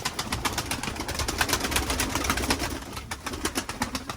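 Released domestic pigeons on a damp, rainy day keep up a busy, layered cooing chorus with soft wingbeats mixed in, nearby and with no talking.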